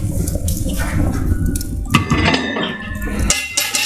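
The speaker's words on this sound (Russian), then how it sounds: "Все, вода наша пошла." Water running from a tap into a pot to be boiled for crayfish, a loud close gushing and splashing stream that shifts in pitch as the pot fills, with no talk.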